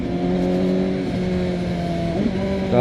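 CF Moto 750SR-S motorcycle engine holding a steady, loud revving drone with harmonic pitch that dips and shifts around two gear changes, ending in a brief swell; no voices.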